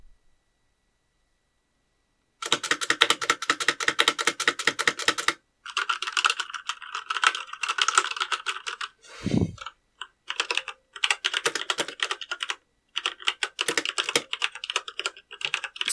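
Typing on an ASUS ROG Claymore mechanical keyboard with Cherry MX Red switches: close, fast, steady keystroke clatter in bursts with short pauses, plus one low thump midway, no talking.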